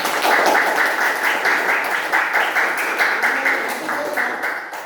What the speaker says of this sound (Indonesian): sama-sama kita tepuk tangan dan beri aplaus untuk kita semuanya